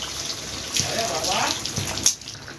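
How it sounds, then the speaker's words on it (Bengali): Water is poured into a pan of egg masala curry, where the spices have cooked until the oil separates. A steady running splash is heard, fairly close, with a brief louder burst near the end. "এবার জল দিয়ে দেব"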